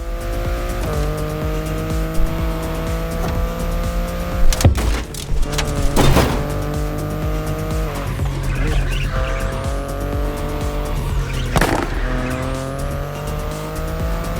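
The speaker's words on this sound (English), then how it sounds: "The BMW i8 is a car that stands out from the crowds." A BMW i8 drives in the racing game The Crew Motorfest, its engine holding a steady hum with shifting pitch, punctuated by several sharp tire squeals and skids.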